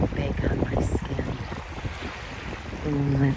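Wind gusting outdoors beside the water, a rough, rumbling buffeting across the microphone that rises and falls, with faint voice-like traces and a short tonal hum near the end.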